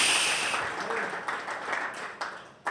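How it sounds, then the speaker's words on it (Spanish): A church congregation applauds during a worship sermon, steady mid-distance clapping that thins out with a few sharper claps near the end, fairly faint in a reverberant hall. "Dale un fuerte aplauso al Rey de Reyes y Señor de señores"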